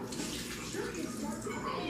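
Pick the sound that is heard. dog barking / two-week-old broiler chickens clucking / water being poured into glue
water being poured into glue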